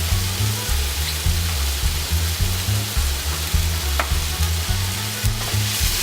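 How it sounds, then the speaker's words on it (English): Continuous hissing sizzle of tomatoes frying in a pan, steady and close, with faint clinks of stirring. "you hear that sizzle?"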